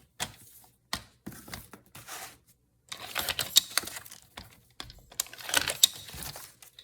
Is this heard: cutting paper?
yes